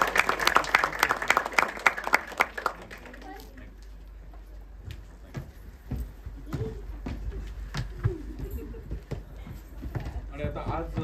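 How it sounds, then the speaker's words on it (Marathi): An audience at a Marathi film trailer launch event bursts into loud applause that fades after about three seconds, giving way to scattered voices, chatter and occasional knocks in the hall. "जोरदार टाळ्या सगळ्यांसाठी."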